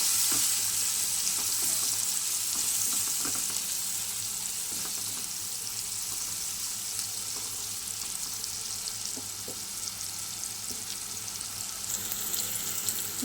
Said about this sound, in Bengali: দিয়ে দেবো 1 চামচ হলুদ গুঁড়ো। ভালো করে ভেজে নেবো আমি।